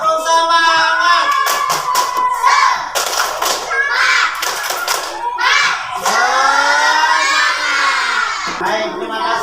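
Schoolchildren in a classroom perform the 'tepuk semangat' chant, shouting lines together and clapping in quick patterned bursts, loud and close, with a teacher's voice leading.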